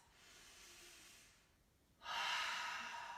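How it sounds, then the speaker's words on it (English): Deep breathing during a heart-opening vinyasa yoga practice: a soft, drawn-out inhale fades to a brief pause, then a louder, airy exhale follows, close to the listener and with no talking. "So find that deep breath."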